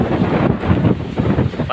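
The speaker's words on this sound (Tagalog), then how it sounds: "Partida, wala pa yung ulan, hangin pa lang yan." Strong Super Typhoon Pepito winds batter the microphone outdoors among buildings, a heavy, rumbling rush with uneven gusts and no rain yet.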